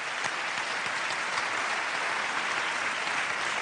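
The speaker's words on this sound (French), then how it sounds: "On peut les applaudir." Sustained audience applause fills a ceremony hall at a national awards event in Le Havre, dense and steady throughout with no pauses, a faint voice barely present underneath.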